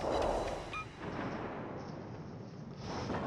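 Naval guns firing at a target in World of Warships Legends, a heavy booming blast at the start that rumbles away into a long low, fading roll.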